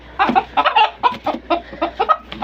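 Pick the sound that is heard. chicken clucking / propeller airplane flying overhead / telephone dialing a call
chicken clucking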